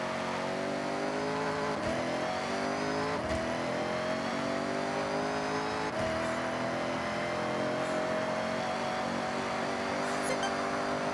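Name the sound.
car engine revving after downshift in Forza Horizon video game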